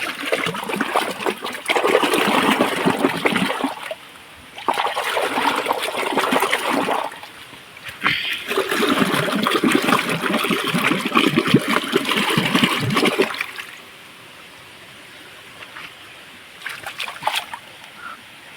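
Water sloshes and splashes in a cold stream as handfuls of leaves are crushed and rubbed in it for traditional Kokan fishing, coming in several long bursts separated by quieter trickling pauses.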